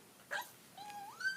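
A puppy lets out a short yip, then a thin, rising whimper that turns into a higher-pitched whine. The sounds are faint and close, in an otherwise quiet room.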